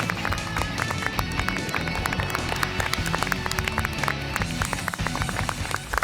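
Audience at a youth forum on housing and living spaces gives dense, steady clapping to welcome an architect. The sustained applause continues throughout without breaks.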